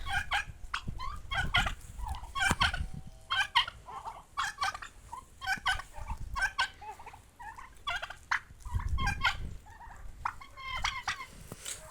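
Several turkeys gobble repeatedly in rapid, rattling bursts, close by, with low rumbling noise underneath.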